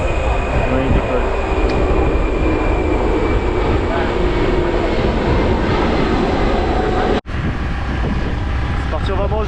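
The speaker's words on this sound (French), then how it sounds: "C'est le 747 qui a atterri. Oui, il décolle." A Boeing 747 airliner taking off, a loud continuous roar of jet engines mixed with heavy wind and cabin rumble, steady throughout apart from a sudden brief dropout near the end, with voices faintly underneath.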